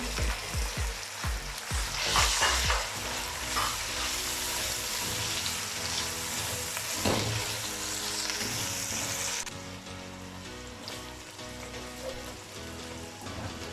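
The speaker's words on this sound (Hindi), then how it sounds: "अब इसमें टमाटर और हरी मिर्चें डाल देंगे। 2 से 3 मिनट के लिए इसे भी भून लेंगे।" Tomatoes and green chillies, added to fried ginger and garlic for chickpea biryani, sizzle steadily in hot oil, with stirring clatters early on. The close frying hiss fills the whole stretch without talk, easing slightly near the end.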